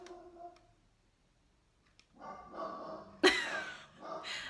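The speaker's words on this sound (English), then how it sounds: "the dogs, they're going bananas" Dogs indoors barking at someone outside the front of the house, a few close, sharp barks and snorting breaths with brief quiet gaps, one louder bark standing out.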